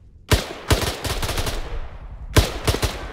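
Gunfire in the ArmA 3 military game: loud, close bursts of shots with sharp repeated cracks, a rapid string in the first half-second to second and a half, then a pause and another quick volley near the end.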